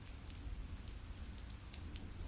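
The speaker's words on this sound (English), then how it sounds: "Rain's tapping away at the awning, but the downpour hasn't deterred some of the usual Friday night crowd" Rain falling and tapping on an awning in the video game Glory Hounds, a quiet constant patter with scattered sharper drop ticks over a low rumbling bed.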